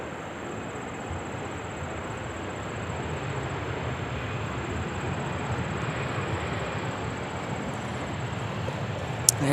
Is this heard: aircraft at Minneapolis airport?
yes